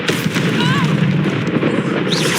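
A Confringo blasting spell exploding in the video game Hogwarts Legacy, a dense, loud, rumbling boom that fills the whole stretch, with a voice briefly sounding over it.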